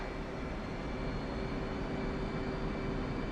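An F/A-18 jet engine in the DCS World flight simulator spinning up to half throttle, producing a steady, dense roar with a constant high whine, continuous and fairly loud.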